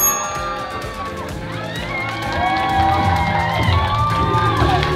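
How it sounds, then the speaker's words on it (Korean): A large crowd applauds and cheers loudly at a Jeonju KCC Egis pro basketball fan day as the players enter, the noise swelling partway through, with whoops and shouts over steady clapping. "박수 한번 주십시오"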